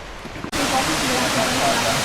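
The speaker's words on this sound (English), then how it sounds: "So this is what we came here for, this waterfall." A waterfall in the woods pours in a steady, dense broadband roar that fills the scene, loud and close, after a quieter opening half-second.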